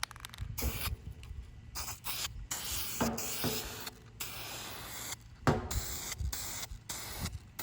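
Bursts of hissing spray onto a deer skull come in repeated pulses with short gaps, close up, mixed with light scraping and rubbing sounds.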